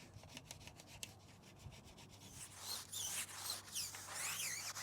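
A thin, flexible wheel woody brush scrubs inside the greasy wheel recess of a neglected Audi daily driver: a steady close scratching and rubbing that grows louder and busier in the second half, with no talk.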